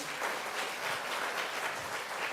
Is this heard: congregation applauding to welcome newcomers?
yes